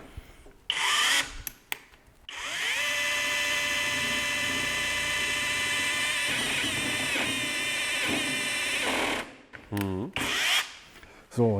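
A Bosch drill with a OneChuck bores through sheet metal in a loud, sustained whine lasting several seconds. Short bursts of handling noise come before and after, and the metal rattles and scrapes as the bit breaks through.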